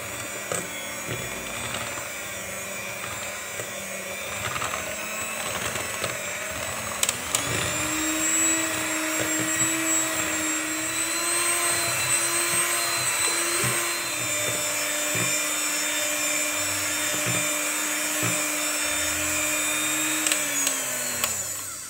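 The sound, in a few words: electric hand mixer beating cake batter at high speed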